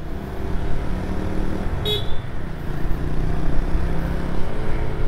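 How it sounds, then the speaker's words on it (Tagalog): A Yamaha Aerox V3 turbo scooter engine drones steadily while riding, the motor note rising toward the end amid wind and road rumble, no speech. "pag nag-1 na siya, gigigil na yung makina, tapos lumalakas na yung tatak"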